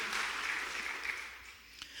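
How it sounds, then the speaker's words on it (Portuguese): A church congregation applauding during a sermon, a steady, even wash of many hands clapping that holds for a couple of seconds and fades slightly near the end. "Pode aplaudir a Jesus."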